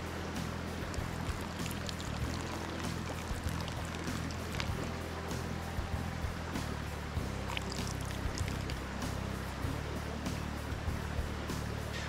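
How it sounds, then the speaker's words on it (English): Water siphons steadily through a hose from a source pool to drive a small turbine, a constant close rushing and trickling flow with faint splashes throughout and no voices. "So long as I stay below the surface of the source pool, this will continue to siphon."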